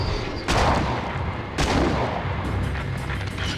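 Two heavy in-game gunshots from a handgun in Silent Hill: Origins, each a sharp loud blast about a second apart with a booming tail, set over a constant low game ambience with no talking.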